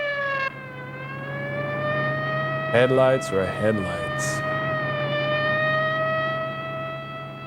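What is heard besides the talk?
siren in a film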